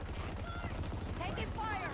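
Gunfire in the shooter Halo Infinite, a fairly quiet, rapid rattle of shots in the background, mixed with whooshing effects and voice-like game chatter.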